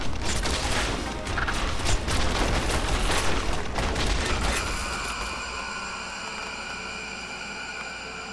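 Gunfire in the PC game Original Journey: a dense, loud rattle of rapid shots for about four seconds, then it fades into steady electronic tones.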